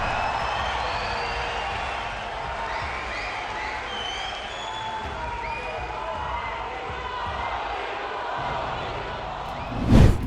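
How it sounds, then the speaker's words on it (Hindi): Indian community members in a New York hall give prime minister Narendra Modi loud, sustained applause and cheering, with a dense crowd wash, faint voices mixed in and a sharp thump near the end. "न्यूयॉर्क में पीएम मोदी के इस बयान पर खूब तालियां बजी"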